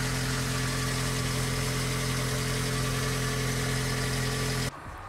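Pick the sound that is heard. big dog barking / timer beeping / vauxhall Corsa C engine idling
vauxhall Corsa C engine idling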